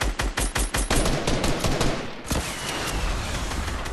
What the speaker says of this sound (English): Can you shoot an RPG down there?